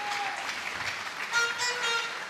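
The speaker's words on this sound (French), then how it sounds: "Acclamons très fort pour les rois." A church congregation applauds, a soft, dense patter of many hands clapping together. It sounds fairly distant and continues steadily throughout.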